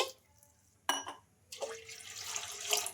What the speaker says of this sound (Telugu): ముందుగా ఒక కడాయి అయితే పెట్టేసుకొని అందులోకి కప్పున్నర వాటర్ అయితే వేసుకోవాలి